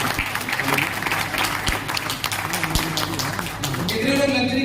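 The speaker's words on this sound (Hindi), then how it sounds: "जोरदार तालियां" A crowd at a business motivational event applauds with loud, continuous clapping over several seconds, and a voice is heard speaking over it.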